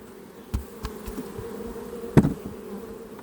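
Honeybees shaken from a hive frame give a low, steady buzzing drone with a few soft knocks and thumps, and one sharper bump partway through.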